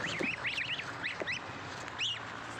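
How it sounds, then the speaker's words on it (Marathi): Free-range village chicks with their hens, heard close by as a quick run of high, thin peeps and chirps over a low outdoor hum, with no talking. "आता पाखरं बी थोडे बाहेर घेतो."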